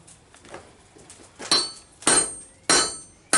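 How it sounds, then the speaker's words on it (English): Hammer blows pound a steel skinning blade being forged on an improvised anvil: a few faint taps, then four loud, sharp metallic strikes spaced about half a second apart, close and ringing, with no talk. "we're going to start pounding this sucker out"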